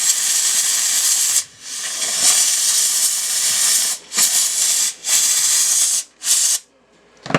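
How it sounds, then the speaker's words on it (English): A steam cleaner hisses in long continuous bursts against Nike AF-1 sneakers, broken by a few short pauses between blasts, loud and close with no talking. "So now I just keep going with the steam."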